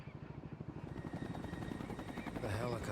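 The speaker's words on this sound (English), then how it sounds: "The helicopter." A helicopter in Final Fantasy XII throbs with a rapid, steady rotor chop that grows louder and busier toward the end, with game voices talking over it.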